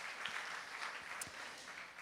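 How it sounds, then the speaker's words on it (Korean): Brief, soft audience applause at a school encouragement session, an even patter of clapping from a seated group, heard faint and fairly distant. "우리 다 같이 격려하는 마음으로 우리 박수 한번 줬으면 좋겠습니다."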